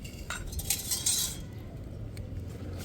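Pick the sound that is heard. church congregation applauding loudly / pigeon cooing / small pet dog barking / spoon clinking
spoon clinking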